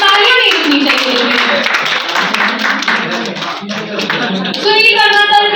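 Audience clapping at a journalists' award ceremony organised by News Outlook, a broad steady wash of applause that runs the whole time and swells again near the end, mixed with a voice or music over the hall.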